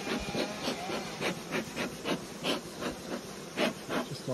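Honeybees hum and buzz around an open beehive during a honey harvest while smoke is puffed over the frames, a steady close drone with soft rubbing and wooden frame noises throughout.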